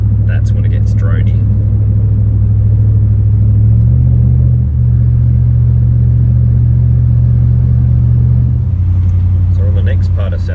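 Low, steady exhaust drone from a Nissan Y62 Patrol with a Manta cat-back exhaust cruising in seventh gear at around 1600 RPM, a loud constant hum with a slight pitch shift midway, with talking inside the cabin.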